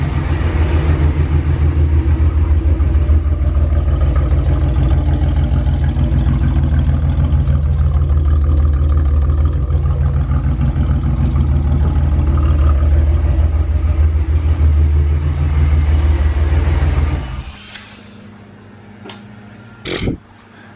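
A leaking V6 supercharged Camaro engine idles in a garage with a loud, steady low rumble and shake for about seventeen seconds, then drops away to near quiet with a couple of brief clicks near the end.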